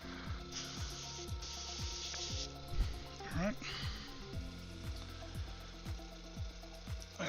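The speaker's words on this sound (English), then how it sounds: "That is my airbrush firing up, or I should say my compressor." An airbrush compressor runs steadily throughout with a regular pulsing, mechanical chug, close and fairly loud; someone speaks briefly over it.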